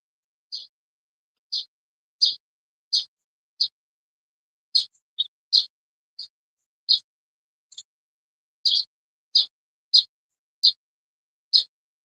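Birds sing outdoors, with a series of short high chirps repeating at fairly regular intervals, faint and somewhat distant against an otherwise quiet background.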